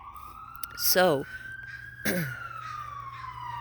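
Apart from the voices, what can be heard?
emergency vehicle siren passing down the street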